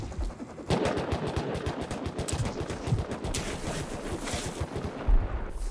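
Rapid automatic gunfire from the survival game Rust rattles on for several seconds as a dense string of close shots, with bursts stacking over each other and a louder crack near the end.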